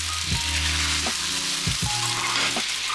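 Steady, bright sizzling hiss of a little water hitting a hot frying pan after cooking mushrooms, with a few faint clinks and scrapes underneath.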